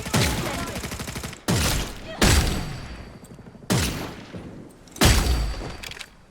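Five loud, separate gunshots ring out in a hunting video game at irregular intervals. Each sharp report trails off into a reverberant decay before the next shot.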